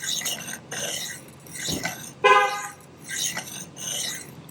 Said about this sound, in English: somebody outside honking their horn